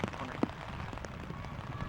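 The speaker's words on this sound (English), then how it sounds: "Rain is still not letting up." Steady rain patters and hisses throughout a girls high school soccer championship match, a dense even wash of drops with occasional louder splashes.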